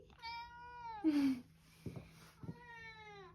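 A cat meows several times, with long, drawn-out cries close by and a couple of short bumps between them.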